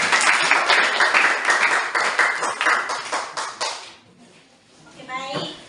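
Classroom applause from a group of students, several seconds of lively, close clapping that fades out, followed by a brief quiet and a faint voice.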